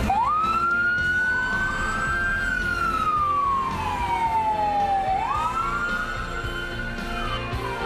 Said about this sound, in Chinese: 警报开始弹，辛苦的消防人员随出动